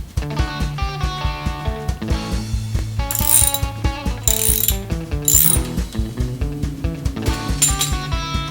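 A ratchet wrench loosens the rider pulley during a timing belt change on an Audi A8, clicking in a loud, rapid, rhythmic run of ratcheting strokes close by, with no one talking.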